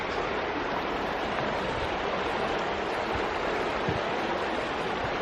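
A river in the Urambi Hills Nature Reserve flows on a winter hike, giving a steady, full broadband rush of moving water that stays even and close throughout, with no talk.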